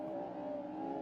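BMW drift car engine revving at a drift competition, a steady distant engine drone held for about a second without talk.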